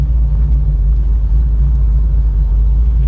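A 1981 Pontiac Trans Am idles with a loud, steady low rumble, its engine note even and unchanging throughout with no other sounds over it.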